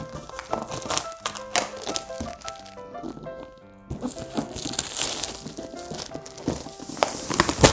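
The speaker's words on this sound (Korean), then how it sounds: "그래서 일단은 비닐 한번 뜯어주도록 할게요." Plastic wrapping is torn and peeled off the box of a Galaxy Book Pro 360 5G laptop, giving close, irregular crinkling and ripping bursts with a brief pause midway and no talk.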